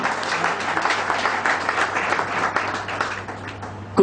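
Applause from a seminar audience, a BNI business gathering in Korba, Chhattisgarh, sounds as a steady, fairly loud wash of many hands clapping together for a few seconds.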